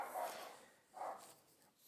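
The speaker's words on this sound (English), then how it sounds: "My dog is fucking barking." A dog barks indoors, two muffled, distant-sounding barks roughly a second apart over quiet room tone, with no speech.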